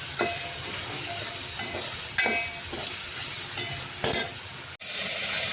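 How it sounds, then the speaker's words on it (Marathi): Red chillies sauté in hot oil in a pan, a steady sizzle punctuated by several sharp stirring scrapes of the spatula, closing with a brief dropout before the frying resumes. "यात मी आता लाल मिरच्या टाकल्या आहेत. 5-6 लाल मिरच्या टाकायच्या छान. छान परतवून घ्यायची आहे."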